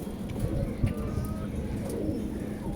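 Pigeons coo close by with deep, repeated throaty calls running through the whole stretch over a low rustling background.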